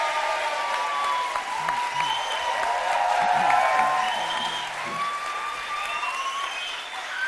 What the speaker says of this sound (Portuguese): essa esse merece cara... aplauso da plateia